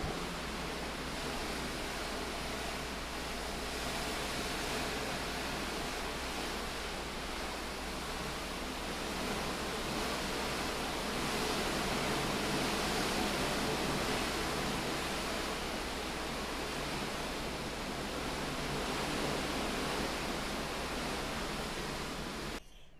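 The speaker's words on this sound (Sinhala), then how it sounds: "ඔයාලා කොහොමම මුහුද සද්දේ අහන් ඉන්නකො ටිකක්" Steady, unbroken rush of the sea heard from a cabin balcony of an MSC cruise ship near Rotterdam, with cold wind mixed in; a loud, even wash holding for the whole stretch with no voices.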